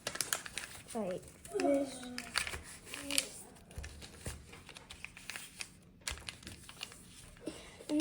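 Paper creasing and crinkling as a child folds a paper airplane glider, soft rustles and crinkles scattered through the clip beneath a speaking voice.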